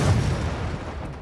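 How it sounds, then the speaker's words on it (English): A shooting star slams into a small house in a cartoon, giving one loud, rumbling crash that fades over about a second. "What are the chances of a house that small being hit by a shooting star?"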